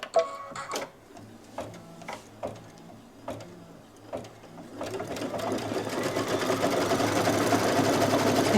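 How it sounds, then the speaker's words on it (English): An embroidery machine quilts an owl block for a Halloween placemat. A few sparse clicks and taps come first, then the stitching starts up and builds into a loud, steady, rapid mechanical chatter that runs to the end. "I want that first, so I'm going to stitch that right now. I'm just going to hit the green button and go."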